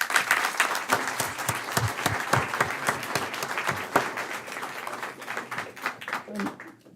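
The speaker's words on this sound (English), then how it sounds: "Please save your applause" Clapping from the public at a Pico Rivera city council meeting, a loud, dense burst of many hands that holds steady and then thins out and fades toward the end.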